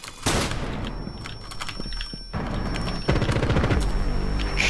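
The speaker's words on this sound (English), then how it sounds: "Flashbang out!" A flashbang grenade and rapid gunfire in the Rainbow Six Siege video game: loud sustained bursts of shots with sharp blasts and a high ringing tone, dense and continuous, without speech.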